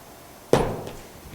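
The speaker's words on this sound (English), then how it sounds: "when the toe of the club is making contact with the impact bag" Golf club toe striking an impact bag during practice, a single dull thud with a quick sharp onset and a short decaying tail, close and alone.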